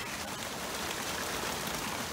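Steady rain falling outdoors around a home yard, an even, continuous hiss of drops with no talking.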